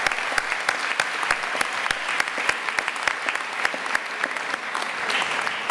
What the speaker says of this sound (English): Give yourself a round of applause because you deserve it.